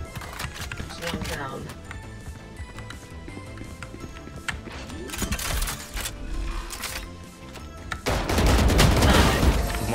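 Vandal rifle gunfire in a video game sounds in loud bursts amid other game sounds, with a louder, denser barrage near the end and voices talking over the action.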